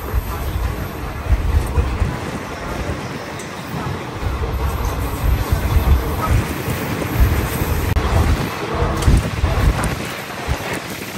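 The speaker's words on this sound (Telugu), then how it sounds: "ఇది మన ట్రైన్ క్రూజింగ్ స్పీడ్ ప్రస్తుతం." DMU train from Kurnool to Guntakal running at cruising speed, a loud continuous rumble with heavy wind noise buffeting the microphone and no distinct pauses.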